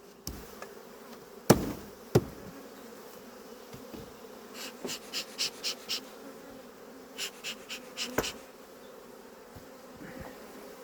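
Honeybees buzzing around an open hive during beekeeping work make a steady low hum with close passing buzzes, punctuated by a few sharp knocks and clicks of hive frames and tools.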